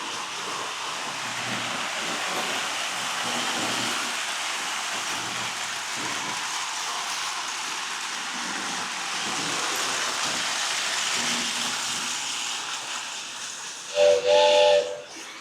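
A steady hiss with a faint mechanical whirr runs throughout as antique toy trains run inside the historic Santa Fe Depot in San Bernardino, then a short, shrill toy train whistle sounds near the end.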